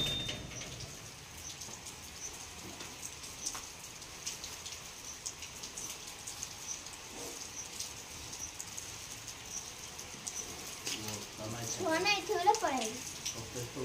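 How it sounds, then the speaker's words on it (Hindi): Steady rain falls outdoors, a continuous soft patter and hiss throughout, with a faint bird chirping briefly near the end. "वर्षा आज छाड़बार ना करूनी।"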